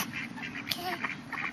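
Ducks quack in a quick, fairly quiet series of short calls, several overlapping in a steady stream with no one speaking.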